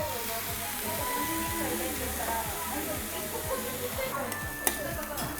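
Yakisoba noodles fry on a hot griddle at a do-it-yourself okonomiyaki restaurant in Tokyo as the sauce goes in. A steady loud sizzle runs throughout, with rhythmic spatula scrapes and a faint voice in the background.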